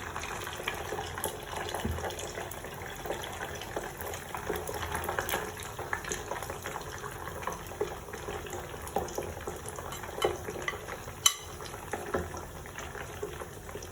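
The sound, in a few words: pork pieces frying a second time on high heat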